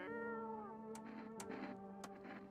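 A cat gives a drawn-out meow followed by a few shorter, softer cries, fairly quiet and close with no voices.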